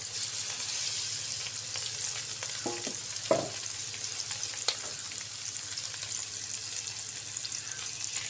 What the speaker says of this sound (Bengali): মাখিয়ে রাখা মাছগুলো দিয়ে দিচ্ছি।